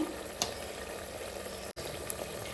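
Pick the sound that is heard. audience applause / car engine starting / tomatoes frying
tomatoes frying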